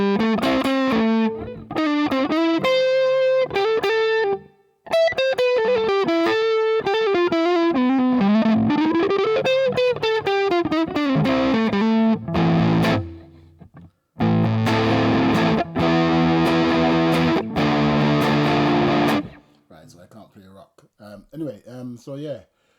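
Electric guitar played through a Plexi amp model on a Digitech Nexus amp simulator, loud distorted riffs and sustained chords in bursts with brief pauses between phrases.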